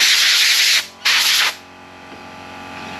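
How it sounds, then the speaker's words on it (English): Loud hissing bursts of air cut off abruptly, then a Black Ridge shed air compressor motor hums to life and settles into a steady low drone. "You can hear the air compressor start up there."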